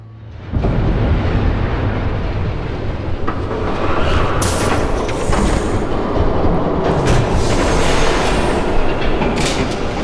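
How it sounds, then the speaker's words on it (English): In the Batman: The Telltale Series video game, a train approaches with a heavy, steady rumble and clatter. The sound swells loud from the start, with bursts of hiss and metallic screech and no voices. "There's a train coming."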